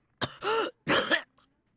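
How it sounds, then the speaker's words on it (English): A character in the visual novel Hakuoki: Kyoto Winds coughs in two close, harsh bursts, then gives a faint trailing breath, loud and near against silence. "Oh no, I forgot how terrible these coughs are and how they rip out my soul."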